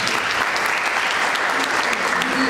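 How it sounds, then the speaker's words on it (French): Steady, close applause from an audience, a dense wash of many hands clapping at an even level for the whole stretch, with faint voices mixed underneath. "Les applaudissements déjà."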